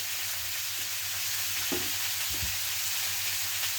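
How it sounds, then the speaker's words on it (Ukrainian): Continuous hissing sizzle of pork belly frying in a pan, close and steady, with a couple of soft clunks of the pan being moved. "Сковорідка наша вже в процесі, вже шкварщить"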